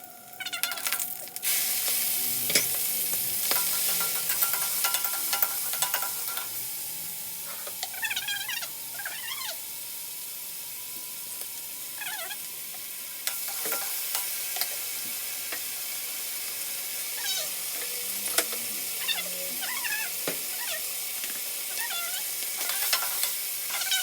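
Chicken liver stir-fried with garlic and greens in a hot pan: a constant loud sizzle with repeated stirring scrapes, plus occasional short, high squeaky calls, and no voices.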